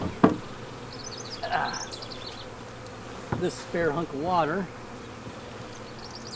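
A swarm of honey bees being hived, a dense steady buzzing hum throughout, with someone talking briefly over it and a few bird chirps in the background.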